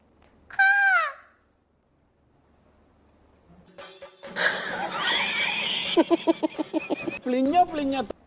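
A person imitates a peacock call with a loud, rising-falling wail, then after a pause gives a longer series of harsh, honking cries and laugh-like bursts.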